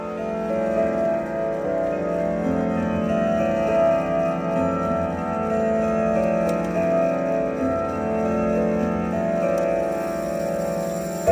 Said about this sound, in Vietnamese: Đó là âm thanh của bạn Ridgway 171 con sò.